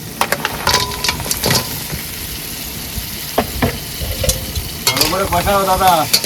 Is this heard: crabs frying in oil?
yes